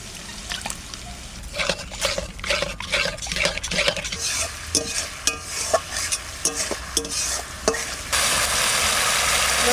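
Spice paste loosened with water and sour yogurt is stirred and fried in a village kitchen for a fish curry, a sequence of rhythmic spoon scrapes and clacks over wet sizzling that swells into a steady loud hiss near the end.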